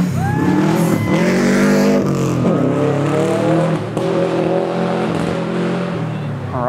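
A pearl-colored super production rally car, built by Graham Wilcox of Ann Arbor, powers through a gravel stage in the STPR Rally, its engine loud and close, revving and shifting through gears with steady roar throughout.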